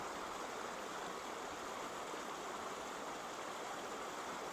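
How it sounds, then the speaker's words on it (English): Steady rushing of the river at Tel Dan, a continuous broadband wash with no pauses, fairly close and even in loudness throughout. "Look at the water here. Just listen to it."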